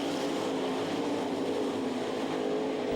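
Sprint cars racing at the Knoxville Nationals dirt track, a continuous massed engine roar from the field heard from a distance, steady and unbroken with no voices.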